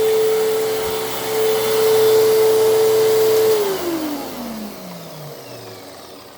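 A 2000 Fantom Fury LE vacuum cleaner runs loud and close with a steady whining motor tone, then the pitch slides down as it powers off and spins down.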